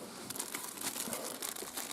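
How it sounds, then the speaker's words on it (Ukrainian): A clear plastic bag is handled during a police search, giving close, continuous crinkling and rustling throughout, with no voices. "Виявлено прозорий поліетиленовий пакет."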